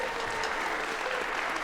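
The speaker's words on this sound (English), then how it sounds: "Huge round of applause for Connor on that solo." A school concert audience applauds a 7th grade jazz band soloist, a brief burst of dense, steady clapping from a crowd at moderate level.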